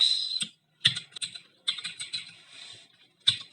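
Close, crisp keyboard typing in a Linux terminal on Ubuntu, working in the Nano editor. Quick bursts of key clicks are broken by short pauses, with a few sharper single keystrokes and no voices.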